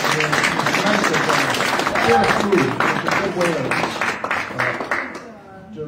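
An audience claps in appreciation of the chef after a dinner gathering; dense, steady applause runs under a speaking voice for several seconds and thins out toward the end.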